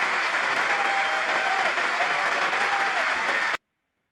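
A packed congressional chamber applauds Netanyahu in a loud, continuous roar of clapping that holds steady, then cuts off abruptly into silence.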